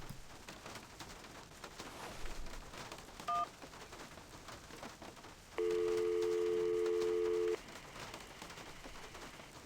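A telephone in the video game Syberia, a brief dialing tone followed by a steady two-second ringback tone, heard over a faint rain-like background hiss.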